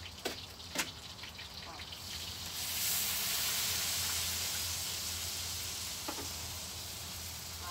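A cup of water hits a hot pan of pork and erupts into a loud, steady sizzle that hisses on for several seconds after a few clinks.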